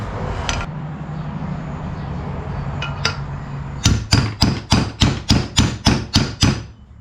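A bushing is driven into a 42RE transmission pump with about ten sharp, evenly spaced metallic hammer strikes, close and loud, after a quiet stretch with a couple of isolated clinks.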